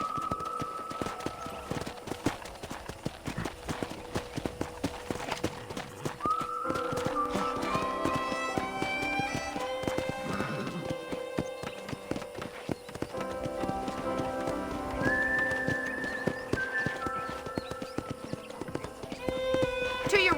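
Steady clip-clopping horse hooves at a walking pace in Red Dead Redemption, close by, with game music tones and background voices running over them throughout.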